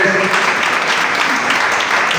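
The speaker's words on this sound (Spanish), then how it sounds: "Démele un aplauso al Rey de Reyes." Applause from a church congregation during a Spanish-language sermon, a dense, loud, continuous wash of clapping that fills the whole moment.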